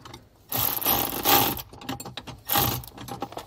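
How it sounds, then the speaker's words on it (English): Ratchet working 8mm bolts on the brake light switch of an RV hydraulic braking setup, two bursts of quick mechanical clicking and metallic rattling, close and moderately loud, separated by brief quiet. "We're going to loosely install these 8mm bolts right now"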